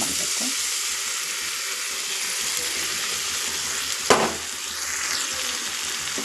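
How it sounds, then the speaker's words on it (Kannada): Steady sizzling and frying of a paste of onion, tomato, curd and chili in a pan for bathani kurma, with one brief stir or clink partway through. "ಫ್ರೈ ಮಾಡ್ಕೋಬೇಕು. ಫ್ರೈ ಅಂದರೆ ಹುರ್ಕೋಬೇಕು."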